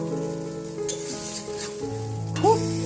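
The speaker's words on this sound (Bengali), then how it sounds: "দেখো আমার বেগুন ভাজাটা এরকম হচ্ছে" Thick eggplant slices fry in plenty of oil in a home kitchen, giving a steady close sizzle with a brief louder crackle near the end.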